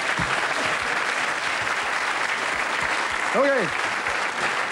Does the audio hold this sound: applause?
yes